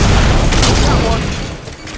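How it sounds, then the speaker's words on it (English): Sniper rifle fire in Halo 5 multiplayer, a loud sustained burst of booming shots with dense gunfire clatter that fades toward the end, with game voices mixed underneath. "Sniper fire!"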